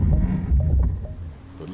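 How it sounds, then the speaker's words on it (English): Porsche Taycan 4S braking on snow with its ABS working, a close, continuous low throbbing rumble with faint pulsing that eases toward the end. "Now you can hear the ABS working."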